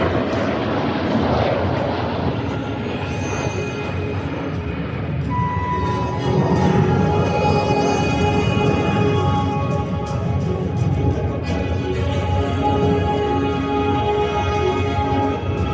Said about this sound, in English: cameras on the center of the display line is gonna be 5 airplanes for the left, 4 from the right